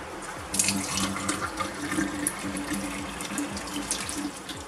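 Tap water gushing from a faucet, with the aerator removed and a quick-connect fitting attached, into a hose feeding an aquarium; a steady, close, hissing rush of flow with no talk.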